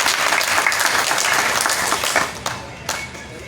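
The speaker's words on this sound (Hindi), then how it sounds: "ताली बजा करके स्वागत करें।" Crowd applause welcoming a district party president at a Bihar political gathering marking B.P. Mandal's birth anniversary: loud, dense clapping from many hands that thins out toward the end into a few scattered claps.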